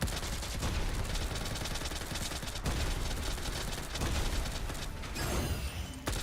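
Rapid automatic gunfire from the video game Girls' Frontline 2: Exilium rattles almost without a break. Mechanical clicks and clatter run through it, with a brief gap and a louder burst near the end.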